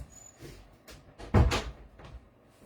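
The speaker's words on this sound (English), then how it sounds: "I forgot to close the door." A door being pushed shut indoors, a single firm thump with a short rattle, preceded and followed by light handling noises at close range.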